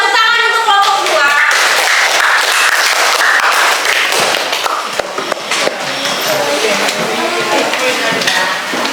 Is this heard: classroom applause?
yes